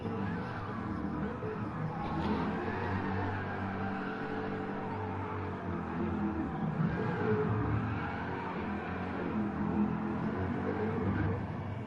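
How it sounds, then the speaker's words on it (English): GT4 race cars, including a Mustang, at Suzuka's turn 1 in a racing video game rumble and rev continuously, engines droning with faint tire squeal mixed into a steady mechanical wash. "Some burnouts being done in turn 1 there by Robinson."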